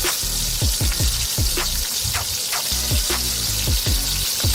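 Puff puff (bofrot) dough balls frying in a small amount of oil, giving a steady, close sizzle with repeated soft crackles and pops running through the whole stretch.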